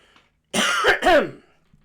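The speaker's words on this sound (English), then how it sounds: "there had to be a cough somewhere, didn't there?" A single loud, close cough or throat clear, harsh and brief, after a moment of silence.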